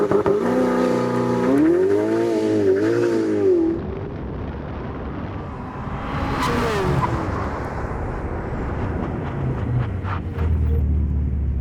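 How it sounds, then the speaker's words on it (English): A Ferrari 488 Pista launches hard and accelerates toward 100 mph, its engine note climbing through rising revs with quick gear-shift dips, then fading as the car pulls away into the distance. "The 488 Pista launches almost perfectly, gets to 60 miles an hour in 3 seconds flat"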